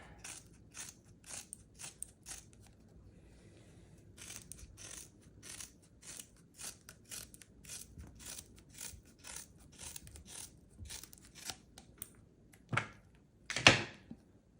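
Scissors snipping rubber sheet for a custom ping pong paddle, a steady run of short, faint, close cuts with a couple of louder clacks near the end.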